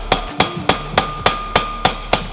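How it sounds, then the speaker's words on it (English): Hammer striking a chisel to split a Land Rover prop shaft, eight sharp metallic blows at an even rhythm, each ringing briefly before the next, loud and close with no talking. "I have to split the prop in half, firstly, with a hammer and chisel."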